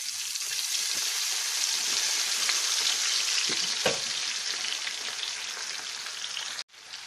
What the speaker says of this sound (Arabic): نبدأ نحمر البصل في زيت غزير